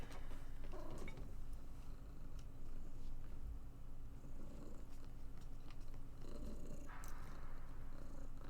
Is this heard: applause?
no